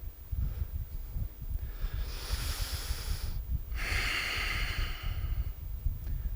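Two long, audible breaths during a yoga twist: a drawn-in inhale, then a strong airy exhale through the mouth, close and clear over a low rumbling background, with no talk.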